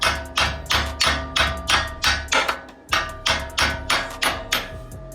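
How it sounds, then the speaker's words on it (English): A starter solenoid on a Midwest Modified race car's motor is tapped with a tool in a steady series of sharp metallic knocks, about three per second, close and loud with no talk. "when I do tap on the starter solenoid, it kicks that back in"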